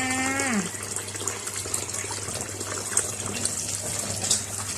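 Tap water running steadily while shrimp are washed, a close continuous gush and splash with a low hum beneath and a short rising tone at the start.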